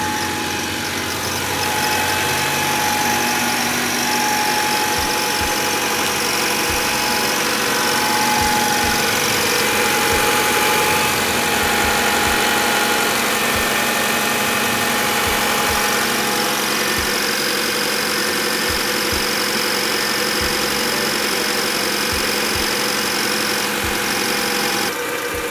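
A Honda Accord CB7 engine idles steadily while its cooling system is bled of coolant, a constant close mechanical hum with light knocking and vibration and no voices.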